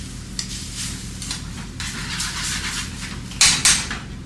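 Chicken provolone with heavy cream sizzling and reducing in a pan, with a steady low crackle running throughout, soft stirring and utensil scrapes, and a sharper clatter near the end.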